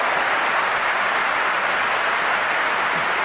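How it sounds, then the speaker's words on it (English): A football stadium crowd at Everton versus Stoke City applauds after Pienaar's shot flies over the bar, heard as a steady wash of clapping and crowd noise. "Pienaar receives a round of applause from the crowd"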